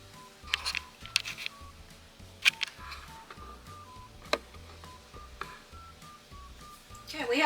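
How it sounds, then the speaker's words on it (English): Lids on home-canned peach jam jars pop as they vacuum seal, giving sharp isolated clicks spaced a few seconds apart over a low hum and quiet room noise, with soft talking in the background. "Okay, we have 2 that popped."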